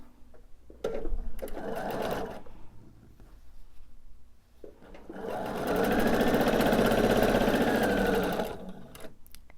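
A sewing machine stitches fabric triangle units for a quilt in bursts of rapid, steady whirring, with a brief pause between runs and a longer, louder run near the end.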